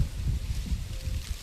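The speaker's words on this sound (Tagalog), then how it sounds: "natanggal sa sobrang lakas ng hangin dito" Strong gusty wind blows outdoors around a plant rack holding cacti, a low rumbling buffet against the microphone that swells and dips in quick gusts.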